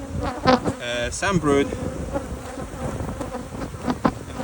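Angry honey bees buzz loudly around an opened hive during requeening, a dense continuous drone close by with brief speech over it.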